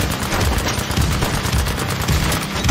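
Sustained machine gun fire in a squad-based shooter game, a steady rapid stream of close, loud shots running without pause throughout, with no talk.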